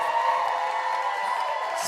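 A comedy club audience at a poetry lounge anniversary show clapping and cheering, a dense steady wash of applause with scattered whoops, sustained throughout at even loudness.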